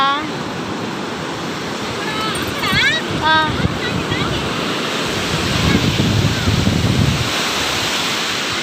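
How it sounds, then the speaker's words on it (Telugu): Ocean surf rolls and washes continuously at a beach where a canal meets the sea, loud and close, with heavy wind buffeting the microphone and brief voices in the middle. "ఇవన్నీ బీచ్ అయితే బాగుంది."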